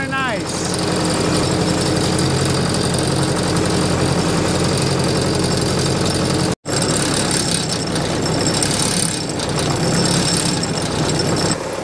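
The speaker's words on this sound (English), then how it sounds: "This is already the longest I've driven this tractor." An old Ford 800 tractor engine runs steadily at close range, a loud continuous low rumble with a brief cutout partway through.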